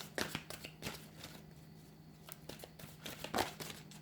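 A card slides out of a tarot deck with soft papery shuffles, flicks and crinkles in quick irregular bursts, close and fairly quiet, with no talking.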